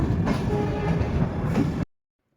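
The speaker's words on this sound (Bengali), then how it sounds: "এবার ট্রেনটি ঢুকছে টাটানগর।" Inside a train pulling into Tatanagar station, a steady rumbling of wheels and carriage noise with faint clatter, heard from on board, cutting off abruptly to silence.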